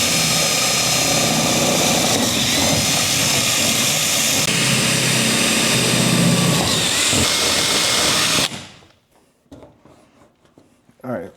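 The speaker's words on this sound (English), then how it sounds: "Then we'll drill the other 3 holes." A power drill bores holes for a foam cannon holder, a loud, continuous whirring drone for about eight seconds that stops abruptly, followed by a few faint knocks and handling sounds.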